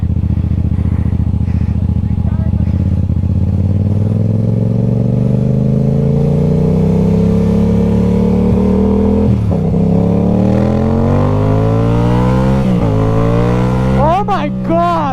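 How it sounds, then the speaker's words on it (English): A stunt motorcycle engine revs up while being ridden, the pitch climbing smoothly and loudly over several seconds, then dipping and surging in sharp rev blips near the end, with a rider's voice briefly audible. "this is my first time riding a stunt bike"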